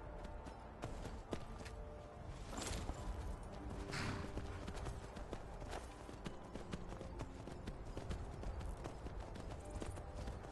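Horse hooves clip-clop in Skyrim, a steady run of close, distinct hoofbeats continuing throughout at moderate loudness, with little else over them.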